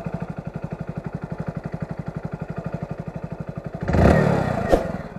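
A Hero Splendor BS6 motorcycle idles close by with a regular, rapid single-cylinder putter, then a louder burst of revving or clatter near the end.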